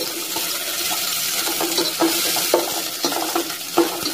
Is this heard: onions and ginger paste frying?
yes